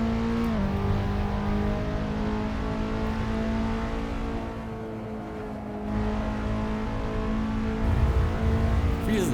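Skip Barber Formula 2000 race car engine in the Assetto Corsa racing game, a steady droning whine holding revs near constant, with a brief dip in the middle before climbing again.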